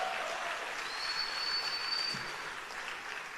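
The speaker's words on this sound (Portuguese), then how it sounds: "pode dar um aplauso" Steady applause from a church congregation during a sermon fills the space, a dense wash of clapping that holds level throughout before easing slightly at the end.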